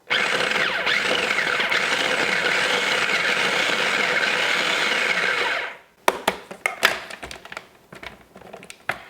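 Food processor chopping cold butter into flour for a coconut cream pie crust, a steady loud whirring run for about six seconds, then a series of short uneven pulses and clatters.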